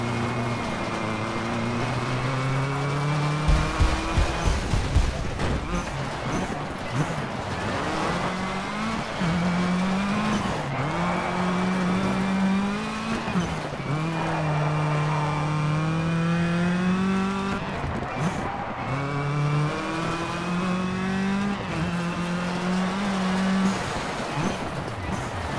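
Engine of a Pontiac car driven in the racing game Colin McRae: Dirt 2, droning steadily with repeated rising revs and gear shifts, loud and continuous, with a voice talking over it.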